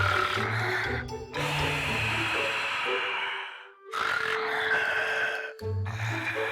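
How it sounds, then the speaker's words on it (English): A person snores loudly up close, with rough, rasping breaths and snorting inhales repeating in a slow rhythm, separated by brief silent pauses. "You snore worse than Dad."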